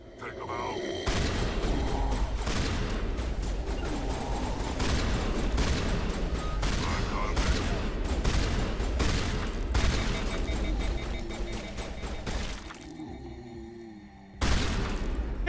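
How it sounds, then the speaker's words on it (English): Repeated shotgun blasts in the video game Mass Effect 3, heavy booms firing in quick irregular succession over a dense battle din for most of the stretch, with a short drop near the end before one more loud shot. "I love the shotguns in this game."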